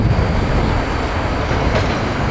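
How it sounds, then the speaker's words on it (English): A SEPTA Express commuter train, number 9559, arriving at Bryn Mawr station on the Paoli line during rush hour, with a loud, steady rumble and rail roar close by. "Here we got SEPTA train 9559, the Express, coming into Bryn Mawr."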